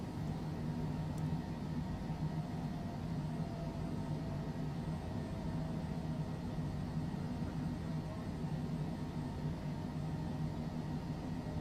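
A Cessna Longitude business jet rolls down a runway in the MSFS 2024 flight simulator, giving a steady, continuous engine roar and rumble that holds an even level throughout, with no talking.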